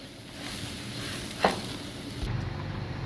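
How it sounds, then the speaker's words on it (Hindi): Sugar is stirred into bread halwa in a pan, giving a soft, steady sizzle with a single clear spoon scrape midway and faint kitchen background. "इसमें डालेंगे चीनी आधी प्याली और इसको मिक्स करेंगे चीनी को"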